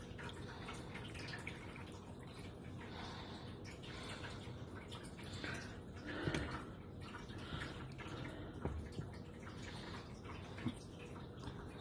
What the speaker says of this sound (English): Trying to get juice out without getting vegetables